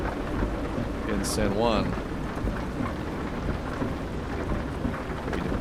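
A thunderstorm in Euro Truck Simulator 2 on a Rennes-to-Dover haul: steady hiss of rain with a low thunder rumble throughout, while someone talks over it.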